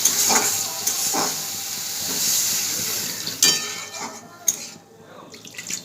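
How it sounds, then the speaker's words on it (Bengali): Sizzling hiss as a little water goes into frying spice masala in a pan for a spicy Bhola fish curry, a bright steady crackle with bursts of steam, while a person talks over it. "আমাদের মশলাটা কষানো হয়ে গেছে, এবার অল্প একটু জল দিয়ে দেবো"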